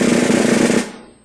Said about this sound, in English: into a buzz roll,